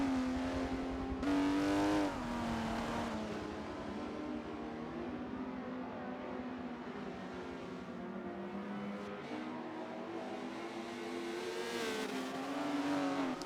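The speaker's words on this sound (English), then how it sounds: "What is the TVR Sagera Cigars? What motor does that use? What engine is that? It sounds good." A TVR Sagaris race car engine in a Forza racing game revs loud and steady throughout, its pitch rising and falling through gear changes with brief dips and surges, heard alone without talk.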